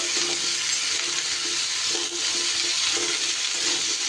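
Pumpkin pieces frying in a hot pan for a vegetarian mixed-vegetable dish, a steady bright sizzle with faint stirring scrapes underneath.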